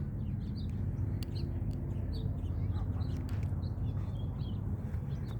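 Scattered bird calls chirp and squawk at the Tustin Wetlands over a steady low rumble of distant traffic, planes and nearby restaurant bustle, with no one speaking nearby.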